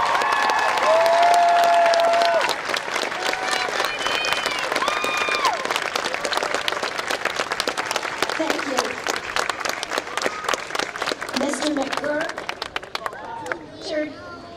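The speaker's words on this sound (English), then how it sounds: "Please join me in a round of applause" A community college commencement audience applauds for faculty and staff, dense clapping and some cheering from a large crowd that carries on for many seconds, with amplified voices and tones over it.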